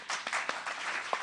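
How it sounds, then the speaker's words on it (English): Audience applause for panelists at a conference on genocide, a short burst of scattered hand claps within a dense round of clapping. "Let's underline with your applause, with a bigger round of applause to our panelists today"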